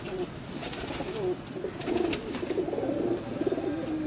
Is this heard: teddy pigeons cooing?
yes